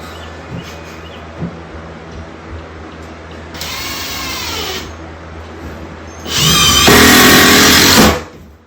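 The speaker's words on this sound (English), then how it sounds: "Impact driver, it's like an impact gun." A cordless impact driver drives screws in two bursts, a shorter whirring run then a louder, longer hammering buzz, close by after quiet handling noises.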